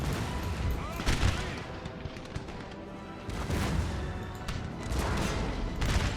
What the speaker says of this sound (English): Canister again. You shoot at them.